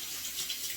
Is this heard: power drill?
no